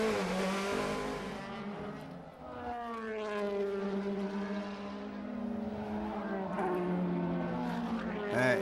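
DTM race car at the 2011 Hockenheim round, its engine held on the rev limiter during a pit stop, a loud sustained buzzing drone with rising and falling sweeps from other cars passing nearby.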